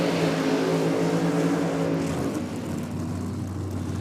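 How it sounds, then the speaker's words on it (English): A Top Fuel Dodge Charger drag car does a burnout at a drag strip, a loud, raw engine roar with a droning tone that drops lower about halfway through and carries on steadily, heard from nearby. "Peter Lovering getting the burnout done short and sharp as he gets the car down."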